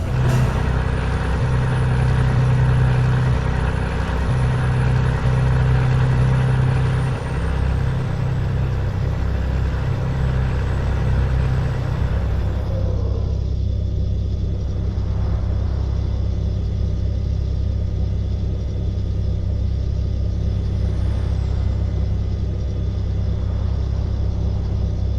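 A truck engine in Euro Truck Simulator 2 runs with a loud, steady low rumble throughout, and a hissing component drops away midway while the drone continues.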